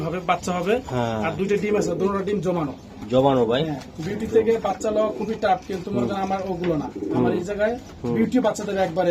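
Racing pigeons in a loft coo in repeated soft, throaty phrases, close by, with people talking over and between the calls.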